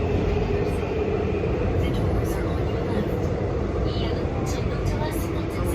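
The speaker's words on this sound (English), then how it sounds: "we are on the subway and it is packed today" Steady low rumble of a packed subway train carrying riders across Seoul, constant and loud throughout, with voices murmuring faintly underneath the running noise.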